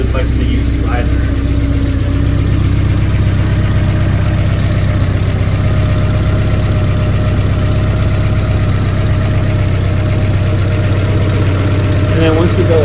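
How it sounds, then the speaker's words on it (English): A Porsche 944 engine idles steadily after a motor mount replacement, a continuous low rumble heard close and alone for the whole stretch. "it's just the idling of the car"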